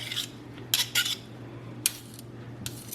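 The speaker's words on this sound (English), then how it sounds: "get an extra knife or spoon and really scrape it like that" Metal knife or spoon scraping macaroni and cheese out of a dish, a few short broadband scrapes in separate bursts over a low steady hum, close and moderately loud.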